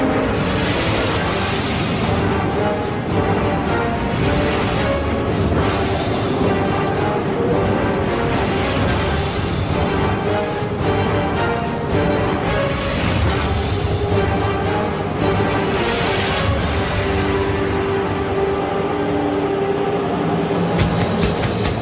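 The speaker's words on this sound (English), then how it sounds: "the Man Trip train, a subterranean work train that works throughout the day" An underground work train runs through a tunnel eight stories deep in New York City bedrock, rumbling and rattling continuously, loud and close, with rhythmic wheel clatter and echoing metallic squeals.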